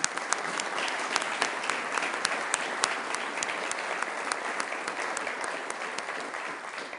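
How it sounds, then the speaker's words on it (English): Steady applause from a gathered audience at a Sioux Falls city council meeting, continuous dense clapping held at an even level for the full stretch with no talk over it. "How about a round of applause?"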